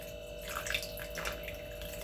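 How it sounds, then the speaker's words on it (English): Water splashing as it is poured in a short stream into chocolate cake batter in a mixing bowl, close and moderately loud, with no talk. "So I'm going to put a little bit of this water in here."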